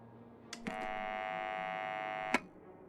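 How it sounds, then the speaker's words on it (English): A video game doorbell at a law firm's entrance gives one steady electronic buzz that holds for close to two seconds, opening with a couple of clicks and ending with a click, with no voices over it. "Should I ring the bell?"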